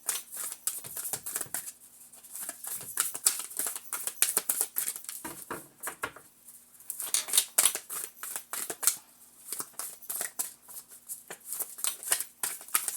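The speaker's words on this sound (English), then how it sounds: "Cards are freaking huge. They're hard to shuffle." Large oversized tarot cards being shuffled by hand, giving repeated papery riffles and soft slaps in uneven bursts, close and moderately quiet, with no talking.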